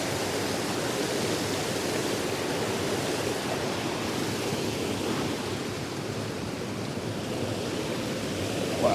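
A winter trout stream rushes steadily over icy banks, a dense, continuous wash of flowing water close by with no break in level, no voices.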